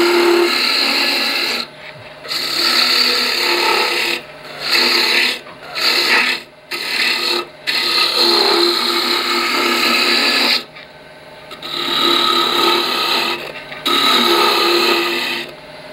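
A roughing gouge cuts a long, thin wooden balance tray turning on a lathe, giving a steady close scraping whir in several bursts separated by short pauses, with no talking.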